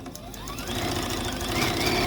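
Sewing machine running across a quilt cornerstone seam, a close, continuous whirring hum with rapid rhythmic stitching that builds slightly in loudness.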